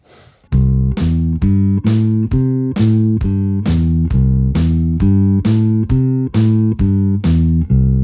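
A bass guitar plucked over the pickup, playing about a dozen evenly spaced, round, full notes in a steady rhythm with nothing else playing.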